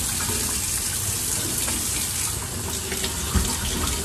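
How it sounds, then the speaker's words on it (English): Tap water runs steadily into a sink while potatoes are cleaned under it, a continuous close gushing rush with an occasional small knock. "I just clean them really well."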